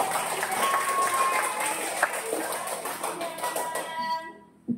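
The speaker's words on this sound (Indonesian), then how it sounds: "Tepuk tangan." A group claps hands together in a steady burst of applause, fairly close, fading out at the end.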